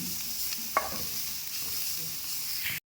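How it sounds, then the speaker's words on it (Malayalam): Grated coconut roasting in coconut oil in a pan gives a soft, steady sizzle with one brief scrape of stirring, quiet and close. "അപ്പോൾ ഇത് നാളികേരം ഒന്ന് വറുത്തെടുക്കുക. ഇതിലേക്ക് കുറച്ച് വെളിച്ചെണ്ണ ഒഴിച്ചെടുക്കുക."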